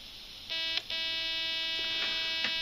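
A crystal oscillator circuit built Manhattan-style for an IF crystal filter project gives off a steady, high, thin squealing tone with buzzy overtones. It starts after half a second and is broken by a few brief clicks.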